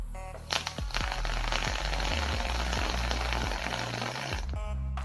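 Micro Alien coils on a vape RDA crackle and sizzle loudly and continuously as they fire, with a rhythmic low pulsing under the dense popping and a sharper burst near the end.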